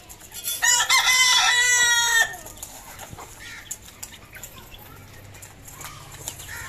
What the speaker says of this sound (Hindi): ये मुर्गी इसको नहीं छोड़ती, इसको मारती रहती दूरे में